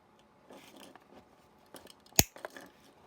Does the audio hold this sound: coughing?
no